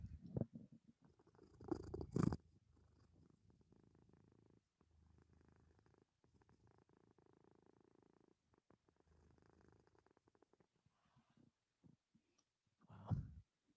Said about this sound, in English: The purring, so beautiful.